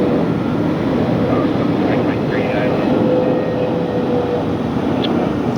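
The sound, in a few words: airplane landing on runway at LAX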